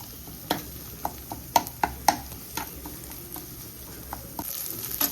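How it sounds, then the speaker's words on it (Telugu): Drumsticks frying in a pan with onions and ginger garlic paste, a steady low sizzle broken by several sharp scraping stirs and clinks, with no one talking. "ములక్కాయలు వేగాలి కదా, ఉల్లిపాయలతో పాటు ములక్కాయలు కూడా వేగుతాయి."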